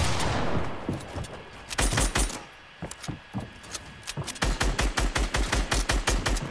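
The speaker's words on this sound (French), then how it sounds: "on tire dans tous les bords, dans tous les deux bords" Gunfire in the Fortnite video game: dense rapid bursts of shots, a short run near the start and a long steady volley at the end, loud and close, with brief quieter gaps between.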